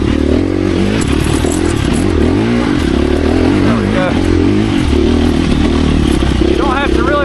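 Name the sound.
2024 KTM 350 EXC-F motorcycle being ridden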